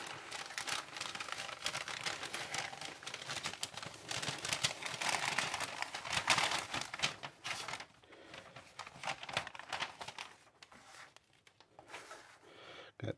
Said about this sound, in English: some packing paper here.